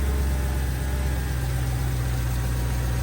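A Mercedes-AMG V8 engine with colder spark plugs and an intake leak idles close by with a deep, steady, even rumble throughout.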